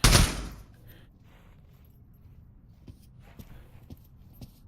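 An M1 Garand rifle fires once in the Pavlov VR shooting game. The single loud, close blast opens the moment, then fades into quiet, broken only by a few faint mechanical clicks.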